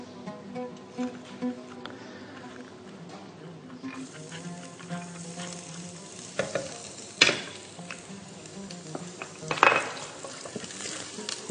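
Garlic fries in oil in a cooking pot, giving a steady close sizzle broken by a few sharp clinks and scrapes of a utensil against the pot.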